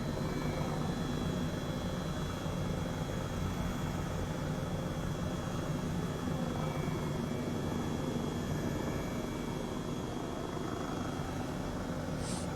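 Helicopter in Flight Simulator 2020 over Charlotte, a steady droning rotor and engine hum with a low throbbing beat, constant and close throughout with no talking.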